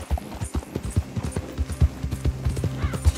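Horse hooves clip-clopping in the Red Dead Redemption II video game, a brisk irregular run of close, punchy thuds with a brief whinny-like tone mixed in.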